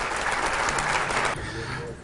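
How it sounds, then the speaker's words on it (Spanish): An audience applauding candidate panelists at a labour congress, with dense, steady clapping that suddenly drops away after about a second and a half, leaving quieter room sound. "Un aplauso para los panelistas, por favor"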